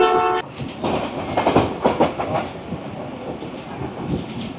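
The Rawal Express passenger train sounds a short horn blast, then rumbles steadily along the tracks with rhythmic clattering from the wheels.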